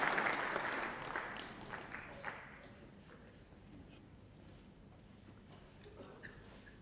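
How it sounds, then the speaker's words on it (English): A snooker crowd at the 1995 Masters applauds a shot, clapping loudest at the start then thinning and fading over several seconds, with scattered claps toward the end. "Crowd applauding, but that's not what John wanted."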